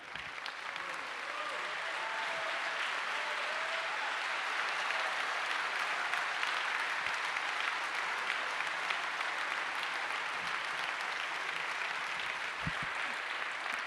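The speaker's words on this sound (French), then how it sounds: "Je vous demande d'applaudir" Audience applause at a conference fills the hall, a dense, sustained wash of clapping from a large crowd that holds at an even level for over ten seconds.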